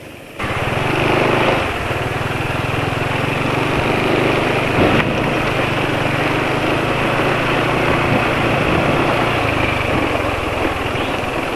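A motorcycle engine idles steadily and close by, a continuous low hum with a slight rattle, no talking; running on Mesran oil after about 180 km of use.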